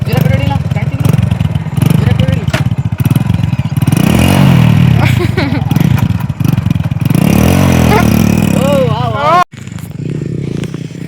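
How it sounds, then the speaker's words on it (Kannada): A Royal Enfield 360 motorcycle engine runs loud and close with a steady throbbing thump that swells and falls, then cuts off sharply near the end before a softer rumble resumes. "Royal Enfield 360 bike."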